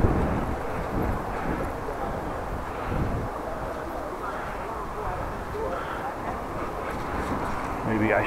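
Wind rumbles steadily against the microphone during a bike ride through Groningen on a mild spring day, a constant low buffeting roar with faint road noise.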